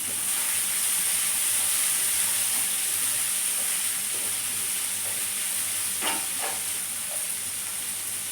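Cut vegetables sizzling in melted butter in a home kitchen pan while a veg roll is being made, with a steady close hiss and a few brief crackles and stirring clatters near the end.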